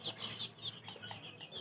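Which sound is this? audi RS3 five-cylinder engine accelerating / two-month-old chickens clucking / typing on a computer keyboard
two-month-old chickens clucking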